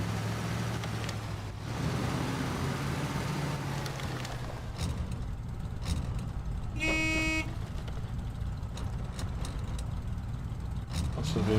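Truck horn in the Snow Runner video game sounds one short, loud honk in the middle of steady engine rumble, amid game vehicle noise and background sounds.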